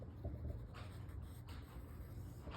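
Soft, continuous scratching of a colour pencil tracing a superhero portrait drawing on paper, faint and close, with slight strokes repeating.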